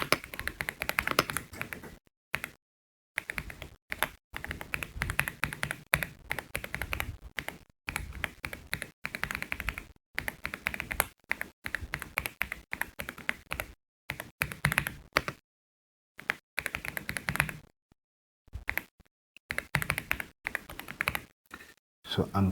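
Keystrokes clatter on a computer keyboard in quick bursts separated by short pauses, with someone talking over the tapping while setting up Deep Live Cam software.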